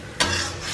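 Cornflour slurry poured into a bubbling chilli egg gravy gives a sudden splash and then a sizzling, stirring hiss that stays loud and close for the short moment.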